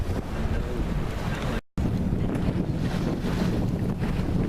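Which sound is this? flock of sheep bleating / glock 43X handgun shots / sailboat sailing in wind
sailboat sailing in wind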